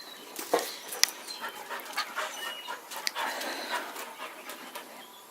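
Pepper, a young female puppy, pants rapidly and close by with a few soft whimpers mixed in, breathy and rhythmic throughout and with no one speaking.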